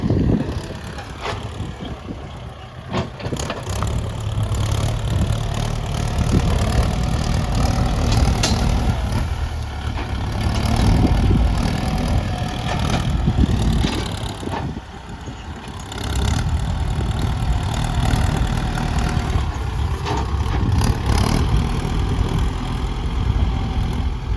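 A Kubota L5018SP tractor fitted with a loud exhaust pipe idles while parked, its steady low engine rumble running close and continuous throughout with no talking.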